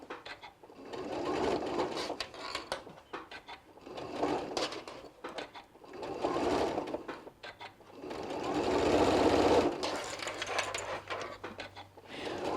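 A sewing machine stitching fabric for an adult bib clothing protector, running in four bursts of steady rapid whirring with brief pauses between them while the fabric is adjusted, fairly close.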